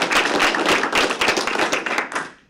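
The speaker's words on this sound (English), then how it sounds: "that's worth a little applause" A room of town council retreat attendees breaks into brief, dense clapping that stays busy and even, then thins and fades out over the last half second.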